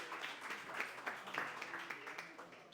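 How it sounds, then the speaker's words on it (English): A panel audience at a Washington DC hospitality industry event applauds a panelist, a steady wash of clapping at moderate level with voices mixed in. "All right, everybody, give a round of applause for Marcus Diggs."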